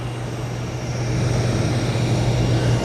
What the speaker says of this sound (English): And they're pushing back the EasyJet.